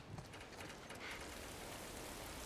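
Steady rain in The Last of Us Remastered, a continuous dense hiss of drops on surfaces filling the background with even loudness, no voices present.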